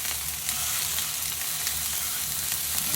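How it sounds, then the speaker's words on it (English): Gurnard fish frying in oil in a pan, with a steady loud sizzle up close as the pieces are turned and stirred. "carefully turn the fish and just agitate everything in the pan together"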